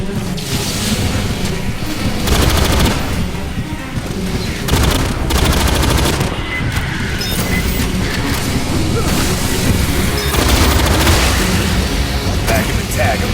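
Dense, loud automatic gunfire at xenomorphs in the video game Aliens: Fireteam Elite, bursts rolling continuously with booms and crashes, while shouted voices talk over the firing.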